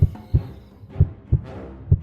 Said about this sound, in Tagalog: Lumakas ang kabog ng puso ko nang makita ko ang alinlangan sa dalawang aswang